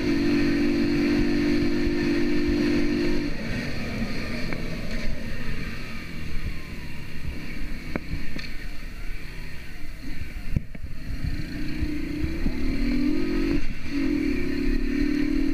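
A Skyteam Classic 50 small motorcycle engine runs in city traffic, a steady low drone under a constant wash of street noise, with a stronger engine hum at the start and again near the end.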